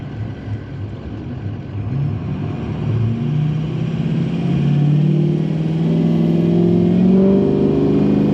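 A 6.0 diesel truck engine with a new performance tune revs under throttle, its loud rising roar building steadily and holding high near the end, heard up close with no speech.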